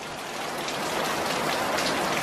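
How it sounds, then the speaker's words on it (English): Rain falls steadily in Florida, a dense, even hiss of drops hitting surfaces, fairly loud and close, with no voices. "1 minute it's sunny, the next minute it's raining."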